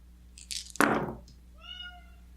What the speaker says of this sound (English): 1 cat meowing outside the door.